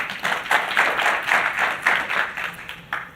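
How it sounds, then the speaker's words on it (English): Audience applause at a business dialogue event on Africa, a round of clapping with distinct rhythmic bursts that swell and fade, fairly close and loud, with no talking over it. "That deserves a round of applause."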